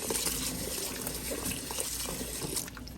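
Black cherries are rinsed under running water in a sink, a steady close splashing gush that continues throughout and eases slightly near the end.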